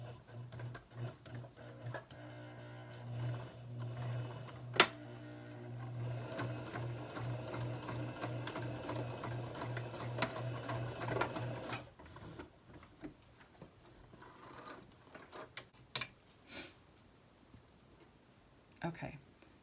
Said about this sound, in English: you're going to sew this down